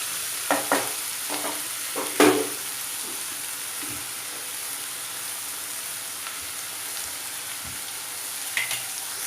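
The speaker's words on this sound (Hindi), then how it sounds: "दो से 3 चम्मच आप इसमें सोया सॉस डाल दीजिए और इसे अच्छे से मिक्स कर लीजिए।" Chicken for a hotel-style chilli pepper fry being stirred in a pan after soy sauce is added, with a steady quiet sizzle and a few scattered scraping clinks of a spoon, louder at the start.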